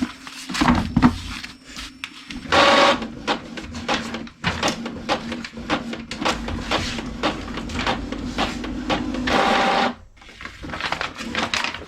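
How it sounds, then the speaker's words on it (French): An inkjet-style printer feeds aged, coffee-stained paper, giving a busy run of rapid clicks, whirring and rattling mechanism bursts with a brief pause near the end, close and moderately loud. "des fois, l'imprimante, elle n'aime pas trop le papier vieilli et café."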